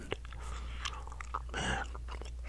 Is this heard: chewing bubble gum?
yes